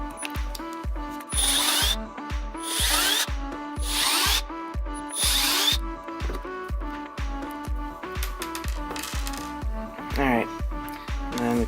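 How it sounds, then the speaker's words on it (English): A screwdriver backs out Phillips screws from a Chinese firework firing system, giving repeated short ratcheting scrapes and clicks in close bursts with brief pauses, close and fairly loud, with speech over parts of it. "They're just Phillips screws, so we will take them out right now."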